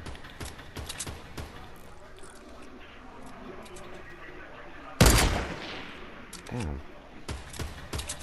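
Gunfire from the video game Fortnite crackles through the clip, with scattered shots and a loud burst of fire about halfway through, mixed with game effects and a player talking at times.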